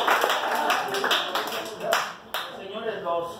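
Scattered clapping from guests at an adult birthday party with a hired clown, a short burst of hand claps under overlapping voices, fading as people keep talking.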